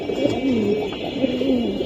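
A Giribaz pigeon, a silver-coloured bird, coos softly and steadily in a low rolling murmur, close by, with faint background hum and no talking.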